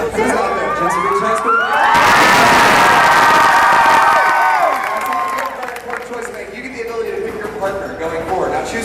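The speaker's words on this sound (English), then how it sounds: "Clearly, you have an entire cheering section here." A high school cheering section at a Fear Factor Live show erupts in loud shouting, whoops and cheers from many young voices, swelling to a peak and then tapering into crowd chatter.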